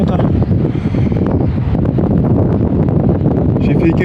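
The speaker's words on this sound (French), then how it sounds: "vent toujours aussi soutenu depuis qu'elle monte" Strong wind buffets the microphone at sea during a fishing trip, a loud continuous roar with gusty rustle throughout.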